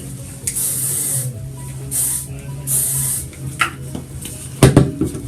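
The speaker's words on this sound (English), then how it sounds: "And then I'm going to spray that part too." Hairspray is sprayed onto hair in three short hissing bursts, close and fairly loud, followed by a few light clicks and handling clatter near the end.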